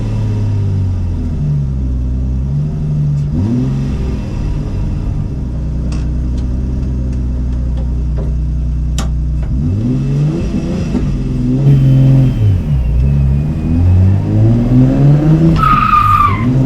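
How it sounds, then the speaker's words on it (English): A loud car engine revs and roars up and down, with tires skidding and squealing sharply near the end. "is going to let Michael have a go in my car"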